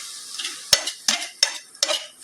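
A spoon scrapes and stirs garam masala into a prawn chop mixture in a pan, making about six sharp scraping strokes at an uneven rhythm over a faint sizzle, close and fairly quiet, with no talking.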